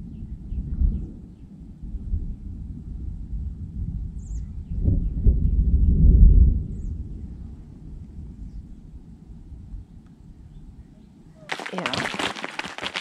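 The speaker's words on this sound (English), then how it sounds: "that's thunder" Thunder rumbles low and distant over icy, slushy winter weather in Tennessee, swelling into a heavier roll midway before fading, with voices nearby and a sudden loud burst of broadband noise near the end.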